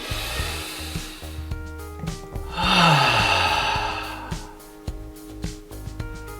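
A runner's long, breathy exhale swells and fades at the centre, surrounded by a busy clatter of footsteps and knocks.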